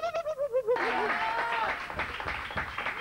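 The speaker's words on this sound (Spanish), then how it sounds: "ahí están los chicos aplaudiendo toda la tribuna que estaba en el programa" A studio audience breaks into clapping after a few short sung or spoken notes, then loud steady applause continues to the end with some voices mixed in.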